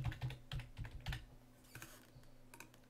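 Keystrokes on a computer keyboard as a segment name is entered, a quick cluster of close, fairly soft taps followed by a few scattered presses, with no talking.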